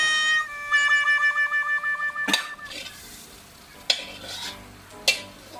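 Thai basil stir-fry (pad kaprao) cooked in a wok, with scraping, stirring and sizzling, sharp metal clanks of utensils on the pan, and a series of rhythmic tonal pulses early on.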